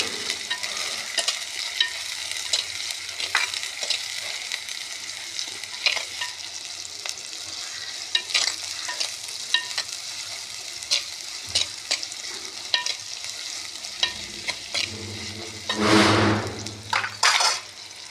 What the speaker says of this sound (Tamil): எண்ணெய் ஊற்றி வெந்தயம் போட்டேன், வெங்காயம் பச்சை மிளகாய் போட்டுக்கலாம்